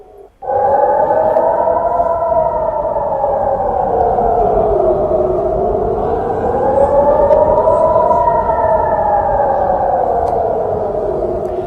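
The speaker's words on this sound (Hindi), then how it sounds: "ईरान के हमलों की वजह से आज दिन भर इजराइल की राजधानी तेल अवीव में एयर रेड के सायरन बजते रहे" Air raid sirens wailing over Tel Aviv during Iranian attacks, a loud continuous rising and falling tone that starts abruptly and holds steady throughout.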